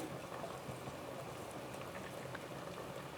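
Water boiling vigorously in a pot for prawn biryani, a steady close bubbling and hissing with no break and no voices.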